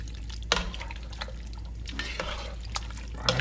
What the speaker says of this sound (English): We'll mix it all up.